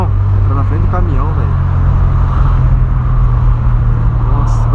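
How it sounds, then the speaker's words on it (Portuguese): Heavy city traffic with a bus cutting in front of a truck, steady loud engine rumble from nearby road vehicles throughout, with voices talking over it. "aí o busão entra na frente do caminhão"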